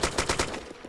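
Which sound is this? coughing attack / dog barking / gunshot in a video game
gunshot in a video game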